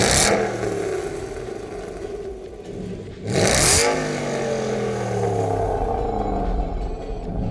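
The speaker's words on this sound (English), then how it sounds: "this car has 440 brake horsepower and it sounds incredible" An Aston Martin GT8 engine with 440 brake horsepower revs hard and loud up close, with a sharp throttle blip in the middle and a rumbling, crackling idle before and after.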